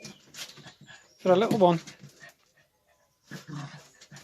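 Two dogs play-fighting on a decking job site, with whimpering and growling scattered through, one loud burst of yelping whines near the middle, and someone talking over them.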